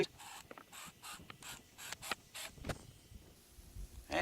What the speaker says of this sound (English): we will drill through nice and easy